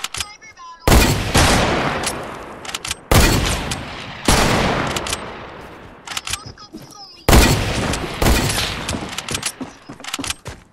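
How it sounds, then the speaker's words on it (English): Loud, heavy gunfire in Fortnite, with hunting rifle shots among several sharp reports. Each blast is followed by a long, decaying tail, and the shots come in irregular bursts with brief pauses between them. "You got to get it on with the hunting rifle."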